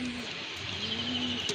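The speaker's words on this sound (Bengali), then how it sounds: "আর এক জোড়া কবুতর এখানে পেশোয়ারি কবুতর আছে, খুবই সুন্দর" Peshawari pigeons at a pigeon seller's coo in a low, steady, faint drone with a soft background hum and no talking.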